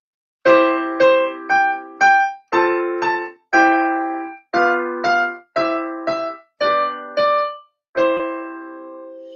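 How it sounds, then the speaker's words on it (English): Piano plays a melody harmonized with full chords, each note struck together with accompanying tones in a steady, moderate rhythm, ending on a sustained chord. "If I were to play it with chords, it would sound like this."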